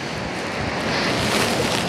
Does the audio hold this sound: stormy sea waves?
yes